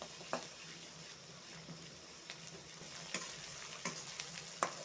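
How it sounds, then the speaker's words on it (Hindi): Ginger garlic paste frying in a pan while being stirred for an arbi (taro root) curry, giving a steady soft sizzle with scattered scraping clicks of the spoon throughout. "1 स्पून अदरक लहसुन का पेस्ट ऐड कर देंगे।"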